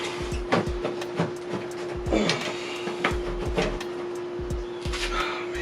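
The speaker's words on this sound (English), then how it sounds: "I'm just gonna pull my full headlight out though." Close plastic creaks, scrapes and scattered clicks come as a headlight is pulled out of a BMW E46, over a steady background hum. No one talks.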